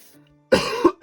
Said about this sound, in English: because I got a dry cough.